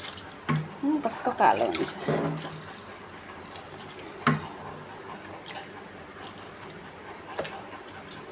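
Water is poured over bhutki cheu mushrooms to soak them, a short splashing pour near the start followed by faint drips and handling under a woman's speech.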